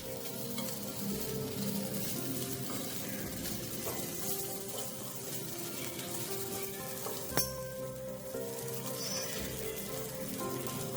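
Fish frying in oil in a pan for a Konkani fish dish, a steady dense sizzle that stays loud and even throughout, with a single sharp clack partway through.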